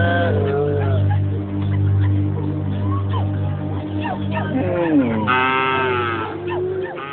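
Dinka cattle low at a cattle camp, with one long, loud, close moo rising clearly among a steady murmur of voices and people talking nearby.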